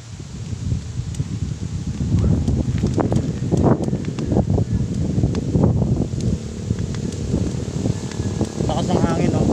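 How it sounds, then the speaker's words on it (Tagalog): Strong wind buffets a microphone on a steep uphill ride toward San Ysiro Falls, a continuous low rumbling roar with gusty swells, loud and up close, with rustling and faint voices mixed in. "Lakas ng hangin, no?"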